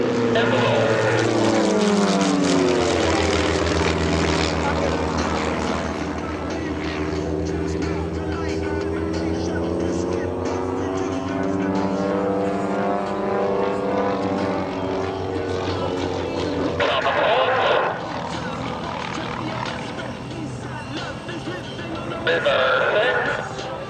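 Propeller airplanes of the Redline Airshows team fly a close formation maneuver at the EAA AirVenture 2025 airshow; a loud droning engine roar sweeps past with Doppler pitch shifts, rising and fading, with a voice commentating over it.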